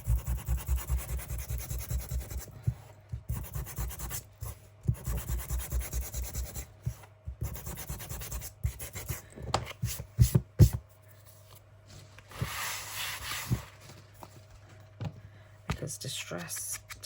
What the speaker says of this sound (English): I'm going to sand this first.